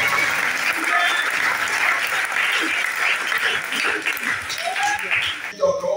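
A church congregation applauds in sustained, dense clapping that fills the room, loud and steady, with voices and cries mixed in throughout.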